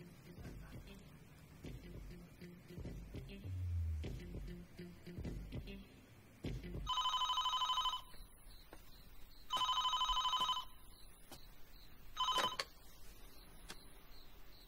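Telephone bell ringing indoors in three distinct bursts, the last one cut short as it is answered, with quiet shuffling and a low voice murmuring between the rings.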